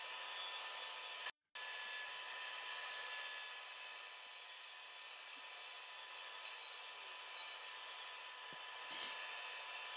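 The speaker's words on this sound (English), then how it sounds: "This new blade is a lot sharper than my old blade, so it's going through the wood like butter." A saw fitted with a new, sharp blade cuts through scrap wood in a steady, continuous rasping hiss, close and even, stopping briefly once early on before carrying on.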